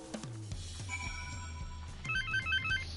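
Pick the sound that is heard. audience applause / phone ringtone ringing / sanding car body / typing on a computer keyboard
phone ringtone ringing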